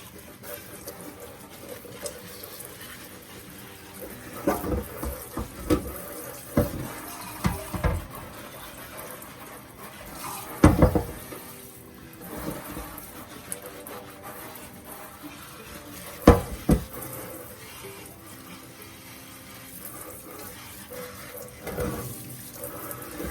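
Water runs from a tap in an uneven stream over a plant being rinsed, splashing and gurgling with occasional louder bursts, close by and without voices.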